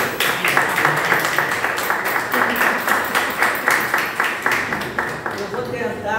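Audience giving a round of applause at a family law commission event, rapid dense clapping sustained for several seconds with voices mixed in.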